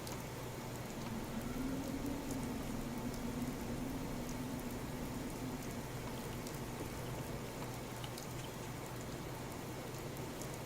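Steady rain patters on surfaces in the video game Fallout, an even, unbroken hiss of drops with a soft low hum beneath and no voices.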